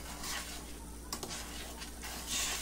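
A no-bake cookie mixture is stirred in a pot on a stovetop, giving soft scraping swirls over a steady sizzling hiss, close and fairly quiet, with one brief clink of the utensil.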